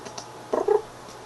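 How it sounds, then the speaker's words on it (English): A pet cat gives a short meow in two quick bursts, close by, over quiet room background with a few faint clicks and no speech. "this is my kitty"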